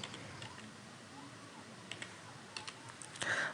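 Typing on a computer keyboard while writing program code, soft scattered key clicks at close range, a few louder clusters of taps near the end, no voices.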